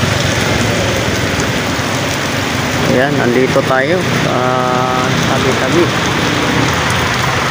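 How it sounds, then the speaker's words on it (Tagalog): Heavy rain pours steadily in a continuous dense hiss under a dark sky, with someone talking over it near the middle while sheltering. "napakalakas ng ulan po at napakaitim ng langit"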